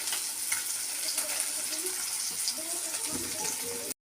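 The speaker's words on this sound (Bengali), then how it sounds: "বন্ধুরা, মাছগুলো ভাজা হয়ে গেছে" Small spiced morola fish frying in a pan, a steady close sizzle and crackle of hot oil that runs throughout and cuts off abruptly at the end.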